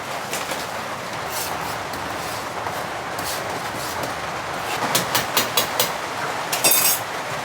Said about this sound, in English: I can hear that rain coming down now though. It's getting heavy.